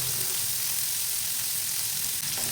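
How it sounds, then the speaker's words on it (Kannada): Chopped onion fries in hot oil with mustard seeds and garlic, a loud, continuous close-up sizzle with a steady hiss throughout. "ಹಾಗೆ ಹೆಚ್ಚಿಟ್ಕೊಂಡಿರುವಂಥ ಈರುಳ್ಳಿ ಹಾಕ್ತಾಯಿದ್ದೀನಿ."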